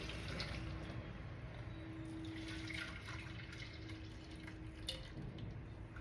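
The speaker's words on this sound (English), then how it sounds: "I'm adding 2 bowls of milk to it." Milk pours into a pan for besan halwa as a faint, steady liquid trickle with small splashy drips, close and quiet, without any talking.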